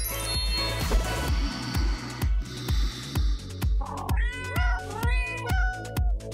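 A cat meows several times in a drawn-out, wailing way over a heavy rhythmic thumping beat and busy background sounds.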